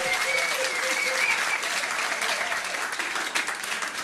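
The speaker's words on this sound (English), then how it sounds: "Give them a round of applause, well done." An audience at a music trivia quiz in a pub claps steadily and loudly for several seconds, a dense, even round of applause.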